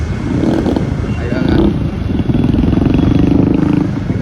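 Motorcycle engine running steadily and loud up close, with a continuous throbbing drone and slight rises in pitch, heard alongside outdoor rumble and clatter.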